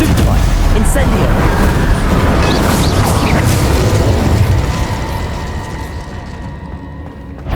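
Fiery spell blasts from Incendio cast in Hogwarts Legacy, loud bursts and rumbling whooshes layered with battle effects and a speaking voice, the roar fading and thinning toward the end.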